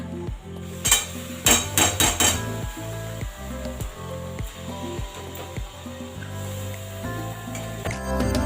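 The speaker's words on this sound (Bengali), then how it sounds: "বাঁধাকপিটা আমি একটু গরম জলে দিয়েছিলাম তো জল ঝারিয়ে এখন দিয়ে দিচ্ছি এর মধ্যে" Drained boiled cabbage is tipped into a pan and stirred, with a run of sharp metallic clatters followed by repeated rhythmic scraping of a utensil against the pan over a soft sizzle.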